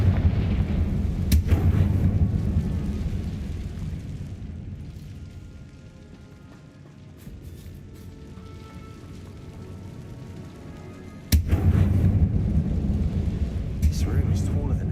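Fire-spell explosions from Confringo in the Hogwarts Legacy game go off as deep booming blasts, loud and close, with rumbling decay and a second sharp blast later, while a voice speaks over the action.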